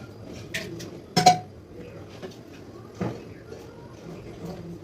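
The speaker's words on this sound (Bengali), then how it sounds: "এবার এই কষা চিকেনটাকে প্রেসার কুকারে দিয়ে দিচ্ছি" Cooked chicken gets transferred into a pressure cooker with a few clattering metal knocks and clinks of pots and utensils, one sharper bang near the start, over a quiet room with faint background murmur.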